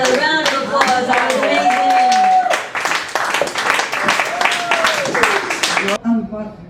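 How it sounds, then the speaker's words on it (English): An audience claps and applauds steadily throughout, loud and close, with a voice talking over the clapping and a sudden drop near the end. "Let's give Matt another round of applause."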